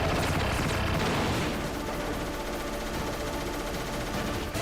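Enemy gunfire in Metal Gear Solid rattles as a loud, dense burst of rapid shots for about a second and a half, then leaves a lingering rumbling din of battle noise with no talking.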